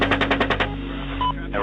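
A combat gun fires a quick burst of about six rapid shots close by, followed by lingering reverberation and faint electronic tones.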